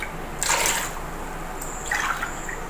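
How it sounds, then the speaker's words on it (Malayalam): Water poured from a glass onto jaggery in a pan for pineapple payasam, two short splashing pours close by with a quiet pause between them. "ഞാനൊരു 3 glass വെള്ളം ചേർത്ത് കൊടുക്കുന്നുണ്ട്"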